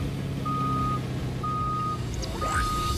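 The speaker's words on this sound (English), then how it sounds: "you'll find the modern semi-trucks, and while they look the same, put it in reverse and you'll hear this." A modern semi-truck reversing in Fortnite gives off three evenly spaced, steady electronic reversing beeps over a loud, constant rumble of engine and wind-like noise, with a faint rising whoosh near the end.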